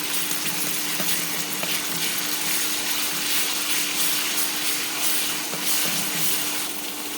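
Fresh leafy greens frying in oil in a pan as a little garlic paste goes in: a dense, steady sizzle fills the whole span, close and fairly loud, with a few faint stirring clicks and no talking.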